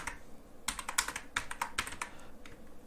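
Typing on a computer keyboard: quick bursts of close key clicks in short clusters, then a brief pause, with no one speaking.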